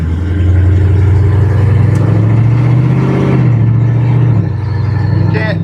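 A 1968 Dodge Charger fitted with a supercharged Hellcat engine revs loudly with its header cutouts open, a deep, steady roar that swells and drops back near the end, with people talking over it.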